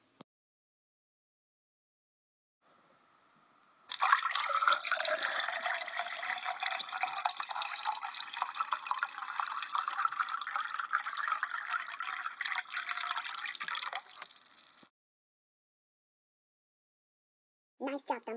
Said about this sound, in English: Dumbo, grab the bucket of water!